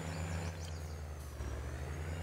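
A KhTZ T-150 tractor engine in Farming Simulator 19 drones with a steady low rumble and a faint whine above it, continuous and close throughout.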